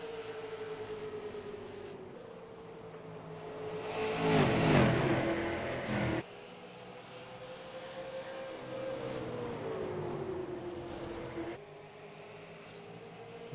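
A race car at Bristol rolls out of pit lane, its engine a low, steady drone that shifts pitch gradually, with a louder, rougher burst midway as other traffic passes, heard at a distance without voices.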